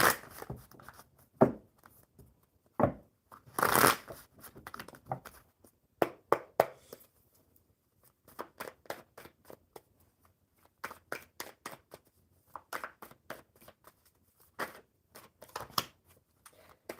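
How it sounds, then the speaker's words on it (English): Tarot cards are shuffled and riffled close up in irregular bursts, with soft taps and slaps between them. "Let's shuffle the tarot up."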